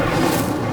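Incendio fire spell cast in Hogwarts Legacy on PS5, a dense, continuous fiery whoosh with a low rumbling boom, steady and loud for under a second with no talk.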